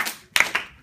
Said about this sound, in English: Two claps on two, one, two.